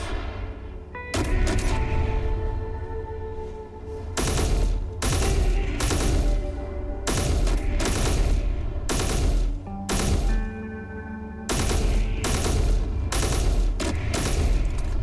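Turrets in Space Engineers fire continuously in dense, rapid bursts that build into a loud sustained barrage with heavy booms, pausing briefly between volleys.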